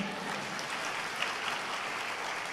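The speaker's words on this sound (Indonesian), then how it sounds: "Tepuk tangannya bisa lebih kompak lagi saudara" Church congregation clapping together during a sermon, a steady, fairly distant wash of many hands with faint reverberant background and no clear speech.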